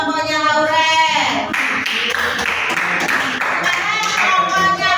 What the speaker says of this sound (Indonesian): Beri tepuk tangan untuk kelompoknya Lauren